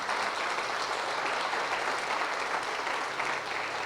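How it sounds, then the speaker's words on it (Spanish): A church congregation claps together in a steady, full round of applause that fills the room at an even loudness for a few seconds, with no voices over it. "Démosle un aplauso al Señor por la vida de ellas."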